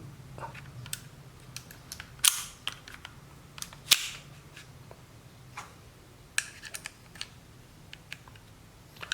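A second-hand gas-powered airsoft pistol at a BB gun shop is test-fired indoors, giving a series of sharp, snappy pops at irregular intervals with quieter mechanical clicks and handling noises between shots.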